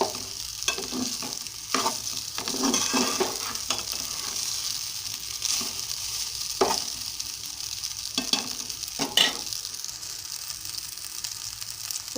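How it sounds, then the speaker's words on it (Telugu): Cooked rice being stir-fried in a hot pan gives a steady sizzle with repeated scraping and tossing strokes of a spatula, close and clear with no talk. "చూడండి, రైస్ వేగుతూ ఉంది కదా."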